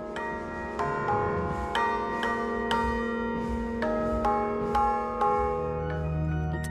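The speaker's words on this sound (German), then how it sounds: "Mit Kirchenglocken und einer Rockband, die so tönt wie schlecht abgemischt." Church bells ring loudly in repeated, evenly spaced strikes with long ringing overtones, joined by a rock band playing during a silent concert at a church.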